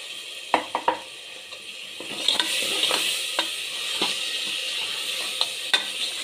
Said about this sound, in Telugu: ఆయిల్లో కొంచెం ఫ్రై కావాలి. కందిపప్పు ఫ్రై అయితే మాత్రం చాలా బాగుంటుంది.